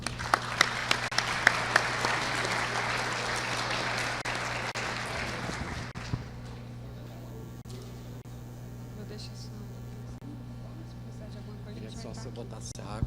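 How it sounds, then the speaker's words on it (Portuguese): Congress audience gives a round of applause for a psychologist speaker, dense clapping for about six seconds that then drops away, leaving a steady electrical hum and faint low talk. "Uma salva de palmas."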